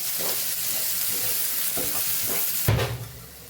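Raw mango curry with salt, red chilli powder and coriander-cumin powder stirred in a pan, a continuous close sizzle broken by soft scraping strokes of the spoon, ending in a louder clatter before fading.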